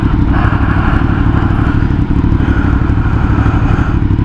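Steady engine roar and wind rush from a Triumph Street Triple motorcycle being ridden on a test ride, loud and continuous throughout with no talk.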